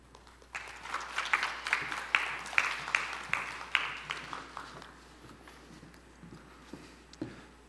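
An audience at a forum session in Jeju claps to welcome a speaker to the stage: a fairly faint run of sharp, steady claps that build and then thin out toward the end.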